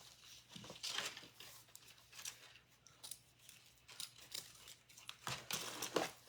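Scissors snip through ribbon tails on a bunny wreath, a few close crisp cuts mixed with light crinkling of the ribbon, fairly quiet with no talking.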